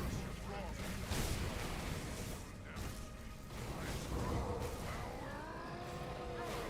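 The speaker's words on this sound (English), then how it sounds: "Throw a big-ass smoke bomb in there." A big smoke bomb thrown during melee combat in the action RPG Grim Dawn, a dense roaring burst with whooshing layered over constant loud battle noise.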